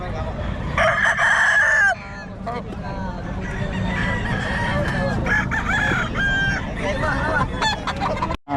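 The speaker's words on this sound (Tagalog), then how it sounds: "Manok niya." A rooster crows loudly and repeatedly nearby at a gamefowl market in Bocaue, with clucking fowl and faint voices underneath.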